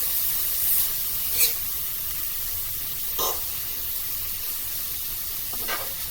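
Meat sizzling on a griddle for a Philly cheese steak quesadilla, a steady bright hiss with a few short louder crackles and spits, with no voices.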